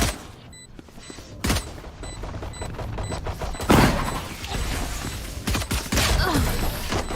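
Gunfire during a competitive Valorant esports match, a run of sharp close shots and bursts with a heavy boom near the middle, over a steady bed of game ambience.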